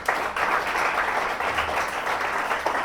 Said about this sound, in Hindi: सर मैं चाहूंगा एक बार दीपक जी के लिए जोरदार ताली।